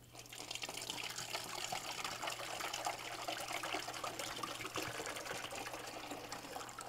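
Water gushes and trickles steadily as it is poured during a demonstration, a continuous close liquid splashing with no talk and a faint constant hum underneath.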